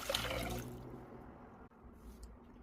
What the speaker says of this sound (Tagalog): Meron tayo ditong malamig na tubig.